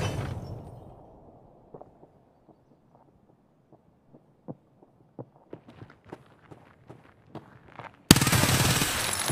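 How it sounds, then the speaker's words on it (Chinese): Gunfire in Escape from Tarkov: a string of sharp single shots and footstep-like impacts, sparse at first then quickening, faint and somewhat distant, ending in a sudden loud wash of noise. "直接腰射爆头打掉第二个玩家"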